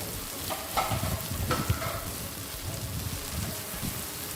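Chopped peppers fry with onion and garlic in a pan for a chicken and minced meat roll, a steady close sizzle with occasional stirring scrapes and no talk.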